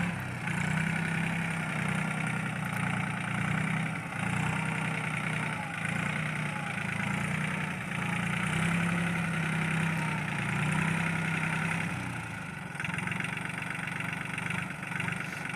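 A Swaraj Target 630 tractor, rated 29 hp, runs in a cotton field with an implement attached. Its engine gives a continuous steady drone and throb from nearby throughout, with no voices.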